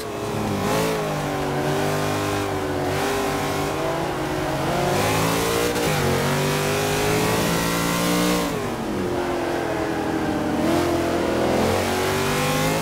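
A Chevrolet Corvette Stingray tuned to A Class in the racing game Forza Motorsport 5, its engine roaring loudly and continuously as it revs up through the gears, with pitch rising and dropping at shifts and corners.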